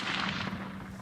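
A single loud rifle shot fired while hunting on safari, with a sharp blast that rolls off into a fading boom over about a second.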